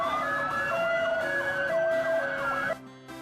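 Siren of a firefighter motorcycle wailing loudly and continuously in rising and falling sweeps, close by, then cutting off abruptly near the end.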